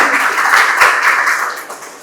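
Audience applause at a channel anniversary gathering: a dense, steady wash of many hands clapping that swells and then slowly thins toward the end.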